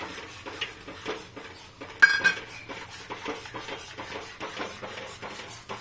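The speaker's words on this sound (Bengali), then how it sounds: "দিয়ে এখন খুব নাড়তে হবে, খুব ভালো করে নাড়তে হবে।" A lentil mixture is stirred vigorously in a pan, with a steady run of close metal spoon scrapes and clinks and one sharper clang near the start, no talk.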